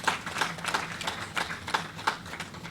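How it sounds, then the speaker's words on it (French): Scattered, fairly faint clapping from an audience at an International Women's Day ceremony honouring women, with sharp irregular claps in a loose rhythm rather than a full ovation. "honorable Fatou Sow Sarr, que je vous demande d'applaudir"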